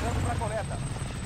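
A helicopter's rotor drone in Call of Duty: Warzone hums steadily beneath a brief bit of overlapping speech, with a thin high whine running through.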